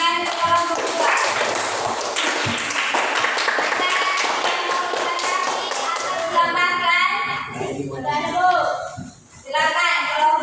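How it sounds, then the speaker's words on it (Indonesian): Students in a classroom clapping for a presenting group, a dense burst of many hands applauding, loud and close, mixed with children's voices, thinning into scattered claps and chatter toward the end. "Tepuk tangan untuk kelompok 2."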